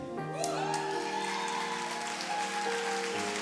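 Steady applause from a church congregation, dense and even clapping that holds at a constant level for a few seconds.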